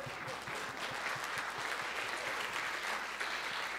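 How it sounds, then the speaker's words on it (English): Loud, sustained audience clapping greets the ballerina from the Nutcracker at a church Christmas program, a thick wash of applause that stays even for nearly four seconds. "give her a round of applause"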